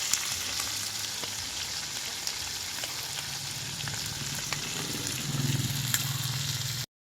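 Cooking oil sizzling steadily in a pan for native chicken, a continuous crackling hiss with occasional small pops and a faint low rumble near the end.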